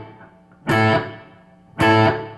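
Two loud distorted electric guitar chords strike through a Line 6 Helix processor with a Rivera Rake Head model and room reverb, each ringing briefly before tailing off, with no talking.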